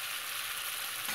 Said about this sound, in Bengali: এবার ভাজা আলুগুলো দিয়ে দিচ্ছি।